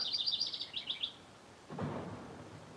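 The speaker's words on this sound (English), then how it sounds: "I'm here with a bird." A small bird chirps in a quick run of bright, high tweets close by, followed by a low rumbling burst of noise after the calls stop.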